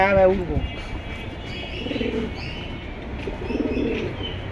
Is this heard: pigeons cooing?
yes